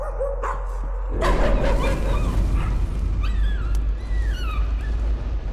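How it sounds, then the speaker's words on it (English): Dog barking inside the horror game Layers of Fear, a run of yips and bow-wows over a low ambient drone with eerie whistling tones, moderately loud and close. "Or it's a painting that's barking."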